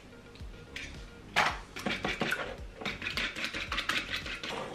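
Whisk clattering against a bowl while mixing zucchini cake batter, a brisk, irregular run of close metallic clinks and scrapes that sharpens after a quiet start.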